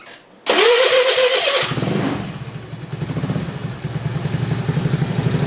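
Carbureted Honda Beat scooter engine with an adjusted automatic choke: the starter whirs with a rising whine, the engine catches and settles into a close, steady, rapid idle putter.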